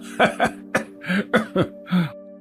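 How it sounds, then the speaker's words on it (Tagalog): Several short, sharp coughs in quick succession, close and fairly loud, with brief pauses between bursts over a steady low hum. "Ubo ka na ng ubo eh."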